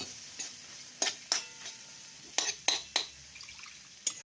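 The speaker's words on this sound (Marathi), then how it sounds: "वाटाणा चांगला परतल्यानंतर आता आपण बटाटा टाकत आहोत। शिजेपर्यंत आपण हे हलवून घेऊयात।" A spoon knocks and scrapes in a pan as potatoes and peas fry, giving a handful of sharp, spaced clinks over a faint low sizzle.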